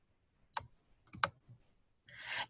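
A few crisp computer mouse clicks selecting a toolbar icon, faint and isolated, followed by a brief soft rustle.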